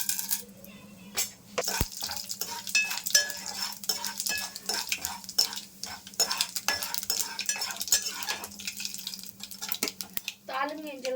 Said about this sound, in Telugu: ఆయిల్ వేడెక్కిందండి కొంచెం తాలింపు గింజలు వేసుకుందాం